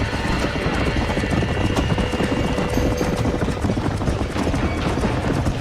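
Rapid horse hoofbeats in the video game Red Dead Redemption clatter steadily throughout, a continuous galloping rhythm that is loud and close, with no talking.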